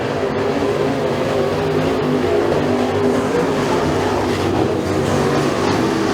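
Race cars at Freedom Motorsports Park run side by side on the track during a heat race, their engines a loud, continuous roar that holds steady throughout without letting up, and no voices are heard.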